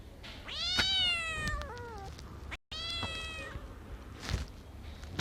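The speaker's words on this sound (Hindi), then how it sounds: "तभी बिल्ली की रोने की आवाज़ सुनाई दी" A cat meows loudly in two drawn-out, wavering cries, close by, with a brief gap between them.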